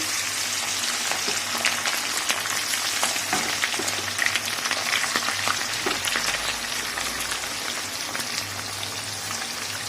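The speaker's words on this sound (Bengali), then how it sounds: "তেল গরম হয়ে গেছে আমি এখানে মুরগির মাংসটা নুন হলুদ মাখা আর ছেড়ে দিচ্ছি" Chicken marinated in salt and turmeric frying in hot oil, a dense continuous sizzle with scattered crackles and pops, close and steady throughout.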